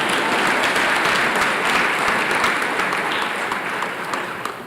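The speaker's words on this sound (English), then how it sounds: "yes, round of applause" A school academic awards ceremony audience gives a sustained round of applause for a debate team, dense even clapping throughout that tapers slightly at the end.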